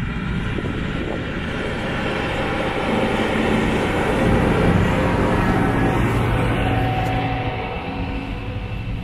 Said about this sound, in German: Jetzt kommt ein Trecker, den muss ich mal eben abwarten, weil der ist ganz schön laut.